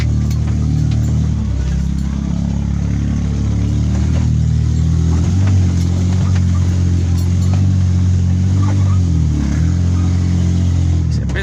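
An old farm truck engine drives off-road along a trail, loud and close, with a steady mid-pitched drone that rises and falls as the driver revs. Faint clinks and rattles come through over uneven ground.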